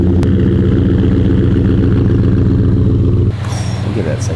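A truck engine runs before setting off, a loud, close, steady low rumble for about three seconds before the sound abruptly thins and changes.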